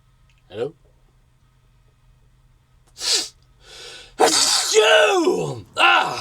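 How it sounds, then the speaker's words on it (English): A single human sneeze bursts out mid-clip, loud and close, after a quiet stretch with a short breath and a gasp, then a spoken exclamation follows as someone talks excitedly. "I sneezed."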